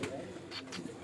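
A plain domestic pigeon on a rooftop coos briefly and softly, a low murmur under faint speech.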